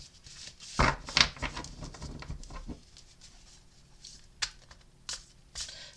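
Playing cards being shuffled by hand in a card-reading session, with soft riffling and clattering bursts that rise and fade, plus a few light taps of cards falling, all close and fairly quiet with no talk.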